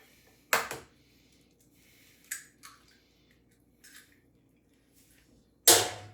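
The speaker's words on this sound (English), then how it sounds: "we're gonna crack these 8 eggs right into this bowl" Eggs cracked one by one into a bowl for a quiche, two sharp knocks with small soft follow-up sounds in between, close and otherwise quiet.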